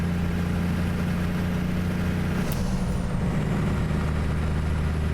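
A Cummins ISX CM870 engine in a truck in American Truck Simulator, heard from inside the cab as a steady low rumble throughout, with a brief high hiss partway through.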